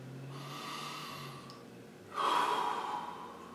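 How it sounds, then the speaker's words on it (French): A single deep breath, first drawn in softly and then let out as a louder, breathy exhale near the microphone in a quiet room. "on pourrait même commencer par juste une bonne respiration"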